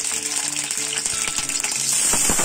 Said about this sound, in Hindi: फ्राई करना है टमाटर को.